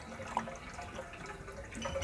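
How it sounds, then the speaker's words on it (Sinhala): Water flowing and splashing from a domestic water motor line as trapped air is bled out: faint, continuous trickling with small drips and gurgles, close by, with no talking. "මම වතුර ලයින් එක ඇරියට පස්සේ මෝටරේ තියෙන හුලං මෙතනින් අහකට යනවා."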